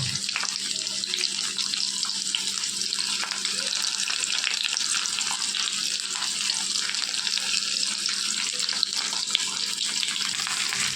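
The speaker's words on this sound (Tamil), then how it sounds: "ஆக்சுவலாக உப்பு போட்டால் வெங்காயம் நல்லா வதங்கிடும்." Onions fry with salt in a pan, giving a continuous even sizzle that holds steady and close for about eleven seconds, with faint occasional stirring and no speech.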